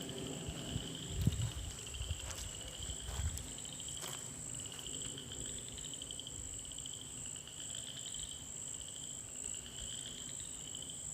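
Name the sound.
frog calling along the Florida Trail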